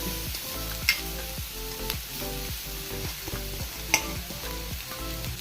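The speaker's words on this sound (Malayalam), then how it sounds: "ഉള്ളി പാടുന്ന സമയം നമുക്ക് അതിനുള്ള തേങ്ങ വറുത്തെടുക്കാം." Steady sizzle of grated coconut frying in a pan with a little oil, with repeated rhythmic stirring scrapes and a couple of sharp clinks, close up with no talking.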